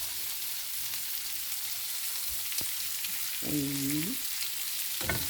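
Shrimp sizzling and frying in a pan, a steady hiss running throughout with a brief stirring scrape, close and moderately loud; a voice murmurs briefly.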